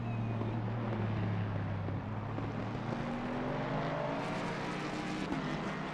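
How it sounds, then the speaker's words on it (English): A Mustang GT3 race car engine in a video game roars continuously at high revs, a steady droning whine with shifting pitch and wind-like noise, no speech. "It's absolutely glorious sound that the car makes."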